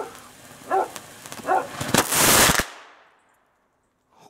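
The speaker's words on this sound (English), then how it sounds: "This one's a flare that goes in and it erupts all at once, so pay attention." A firework flare shot outdoors in the snow at night, with a few sharp cracks and pops building into a brief loud crackling eruption that cuts off abruptly, then near silence.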